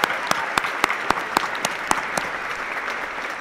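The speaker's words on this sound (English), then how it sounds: "please join me in a round of applause" Audience applause fills a commencement ceremony hall at Oregon Tech, a steady wash of clapping from a large crowd with a few sharper, closer claps standing out, continuous for several seconds with no talking.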